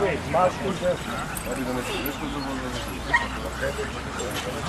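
Macedonian shepherd (Karaman) puppies, three to six months old, yip and whimper in short bursts at a dog show, with people talking nearby and crowd noise behind.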